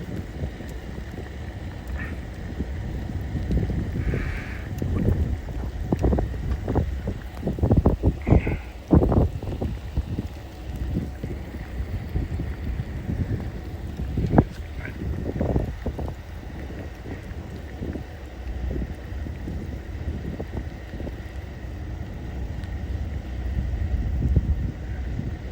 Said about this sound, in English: We have the winds picking up too.